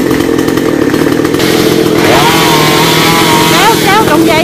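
A chainsaw cuts down a coconut tree, its engine droning loudly with rising and falling revving whines as the cut proceeds, while voices talk over it.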